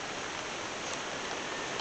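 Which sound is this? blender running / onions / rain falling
rain falling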